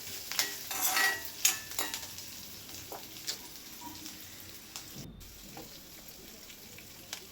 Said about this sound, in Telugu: ఉల్లిపాయలు వేసిన తర్వాత ఈ మిర్చి ఫ్రై అవ్వన్నమాట